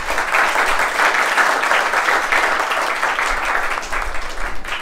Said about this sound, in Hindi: ढेर सारी तालियां